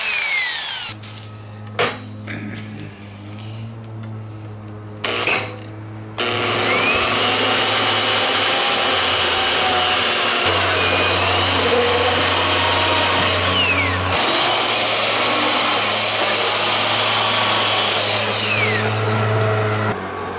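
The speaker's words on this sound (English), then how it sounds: "So now I'm going to drill holes" Drilling holes through a welded steel plate for a bench top vise: a few short tool bursts and knocks, then a long, loud, continuous grinding drill run with a low hum, briefly easing and resuming, close to the mic.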